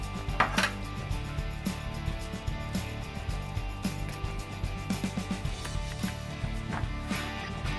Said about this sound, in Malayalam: ഇങ്ങനെ ചെറുതായി കൊത്തി അരിഞ്ഞ് വേണം എടുക്കാൻ